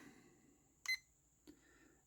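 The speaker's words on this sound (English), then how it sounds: "Let's start the timer." A digital timer starts during a drawing session with a short, faint electronic beep, followed by a second softer blip about half a second later against near silence.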